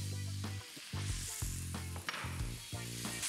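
Tomato paste browning in a pan hisses and sizzles loudly as wine is poured in and stirred, in a series of crackling bursts that swell and fade close by, with no talk.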